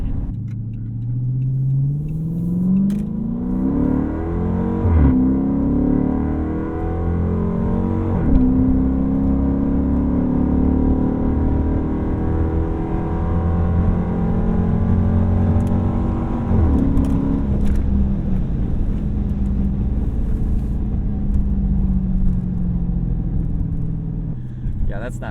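An old Dodge Charger Pursuit police car driving on a road, heard from inside: a steady engine drone and tyre rumble with the engine rising in pitch through the gears as it accelerates, then easing into an even cruise.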